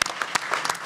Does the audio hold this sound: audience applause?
yes